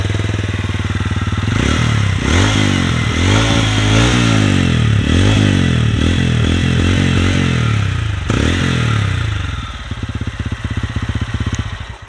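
A TVS Ronin 225 motorcycle with a side-mounted exhaust is revved hard several times, loud close bursts rising and falling over a deep, heavy bassy drone, before settling into a lumpy, pulsing idle.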